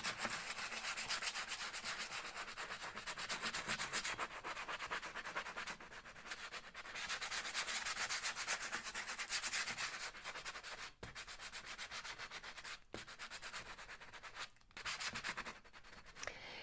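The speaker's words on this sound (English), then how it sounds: "I'm going to sand that area as well, and we'll see what happens." Sandpaper rubbing over a painted glass bottle makes a steady, close, abrasive scratching with a fast back-and-forth rhythm, continuing for a long stretch with a few short pauses and no speech.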